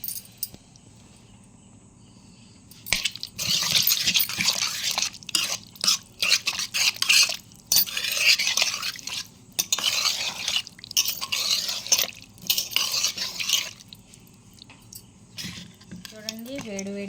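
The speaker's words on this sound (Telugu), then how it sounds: "కూరనంతా కలిపేయండి." A spoon scrapes and clatters against a pot while brinjal and salted fish curry is stirred, in irregular bursts of metallic scraping over a quiet background, then a soft sizzle near the end.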